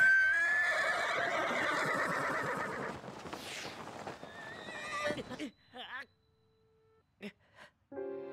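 Horse neighing in The Legend of Zelda: Breath of the Wild, a whinny with clip-clop hooves over game sounds and background music, followed by a falling horse and sparse game effects near the end.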